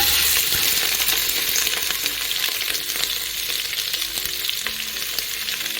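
Chopped onions fry in a pan for a pressure-cooker biryani, making a loud, crackling, continuous sizzle close by, with scattered clicks and scrapes of stirring and no voices.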